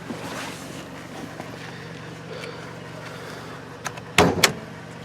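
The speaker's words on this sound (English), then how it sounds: "Alright, let's go pop the hood." Hood of a 2019 Toyota Camry LE released and raised: faint background hum, then a couple of sharp metallic clicks and a louder clunk near the end.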